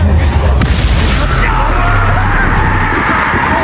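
A Confringo blasting curse explodes in Hogwarts Legacy as a loud, dense, sustained booming roar, with heavy low rumble and crackling debris continuing unbroken, and a voice underneath.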